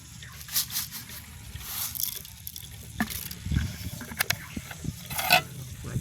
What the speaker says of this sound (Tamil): எல்லாம் சேரக்கூடிய மாதிரி நல்லா குழைச்சி எடுப்போம்.